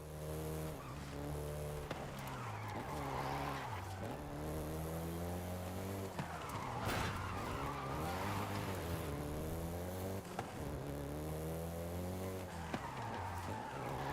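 Volkswagen Golf GTI in Forza Horizon 5, engine revving up and down through gear changes with loud tire squeals and skidding, a continuous close-up drive.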